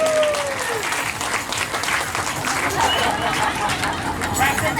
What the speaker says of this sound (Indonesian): Kasih tepuk tangan untuk doer biar bisa.